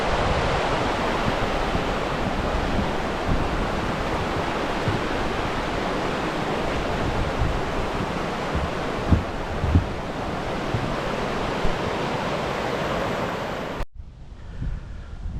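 Southford Falls running with high water after heavy rain, a loud, steady roaring rush that fills the whole stretch without a break, close by, and cuts out abruptly near the end.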